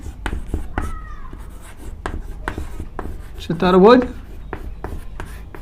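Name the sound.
writing on a board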